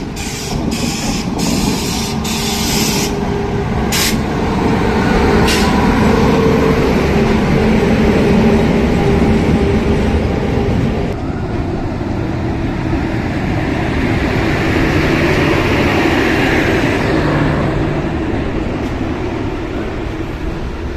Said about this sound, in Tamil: நம்ம ட்ராவல் பண்ண போகிற கோமேஸ்வரா எக்ஸ்பிரஸுங்க.